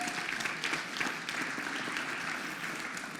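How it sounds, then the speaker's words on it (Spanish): Congregation applauding the Lord during a Spanish-language church service, a steady wash of many hands clapping at moderate level, continuous and dense for the whole stretch with no voices standing out. "Dale un fuerte aplauso al Señor"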